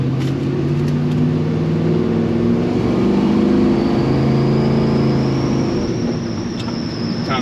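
A Chevy C-10 pickup truck with worn brakes rolls along, its engine a steady, loud, droning hum with road noise heard from inside the cab and a faint rising whine near the end.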